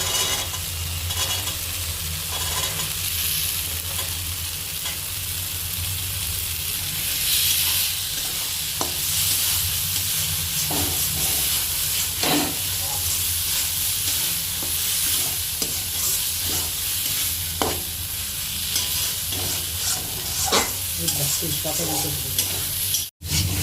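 Green peas and spices for a winter-vegetable khichdi fry in a pan with a constant hiss and sizzle, broken by repeated scraping stirring strokes, close and alone.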